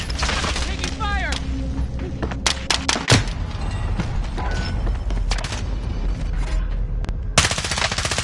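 Rapid bursts of video-game machine gun fire rattle through a busy battle soundscape, with sharp individual cracks and a heavier boom around the middle, while radio-style voices chatter over the fighting.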